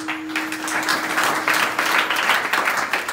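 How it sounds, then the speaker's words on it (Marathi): An audience at a harikirtan in Nagadwadi claps together in a dense, steady burst of applause, loud and unbroken, with no voice over it. "तुम्ही टाळी छत्रपती शिवाजी महाराजांसाठी वाजवली असेल तर हरकत नाही"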